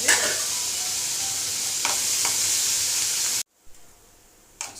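Loud, steady sizzling of tomatoes, shallots, cumin and tamarind frying in a pan with a couple of stirring scrapes, then it cuts abruptly to near quiet.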